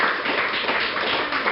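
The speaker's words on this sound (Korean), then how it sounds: "좀 좋은 시라고 생각하면 박수를 좀 한번" An audience of teachers claps for a student's science poem, giving a dense burst of applause at close range with no talk over it.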